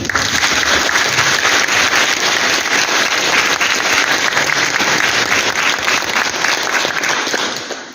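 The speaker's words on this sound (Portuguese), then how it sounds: "vamos nos acolher com uma forte salva de palmas." A church congregation at a novena service breaks into loud, sustained applause, a dense wash of clapping hands filling the room for several seconds before fading at the end.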